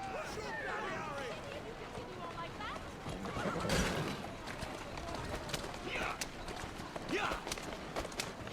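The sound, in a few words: horse hooves in video game Assassin's Creed Syndicate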